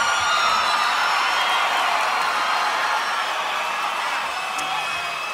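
Large concert crowd at a country music show in Tennessee, a steady, loud wash of cheering and applause that holds throughout with no voice above it.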